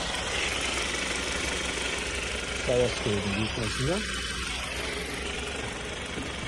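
A 2025 Hyundai Grandeur with a 2.5 GDI petrol engine, factory condition and about 5,000 km, idles with a low, even hum throughout while someone speaks over it.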